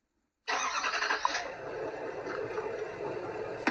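A big truck's engine in a driveway starts up suddenly after a moment of silence, then settles into a steady mid-pitched run, faint and somewhat distant.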